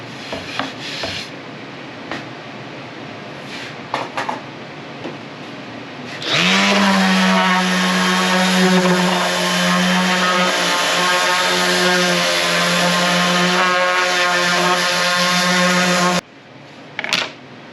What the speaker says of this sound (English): I'm gonna take the sander to it, the orbital, and at least sand off the glue and stuff